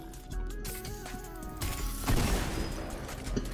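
Shotgun blasts in a video game firefight: loud, booming shots over a busy background of game music and action, with rapid repeated impacts in the second half and no voices.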